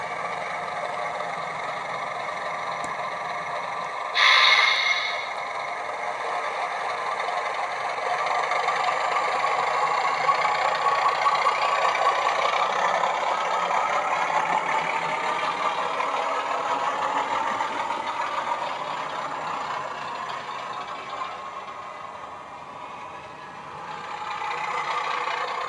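Model railway diesel locomotive sound effects for a Hymek and a Class 31, a sustained droning engine rumble that swells and settles, with a brief sharp hiss or horn-like burst near the start, no talk.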